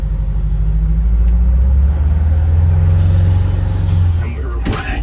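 Massive Oshkosh fire engine pulling away from a standstill, its engine rumbling loud and close in a deep, steady drone that rises in pitch as it accelerates, ending with a brief hiss like released air.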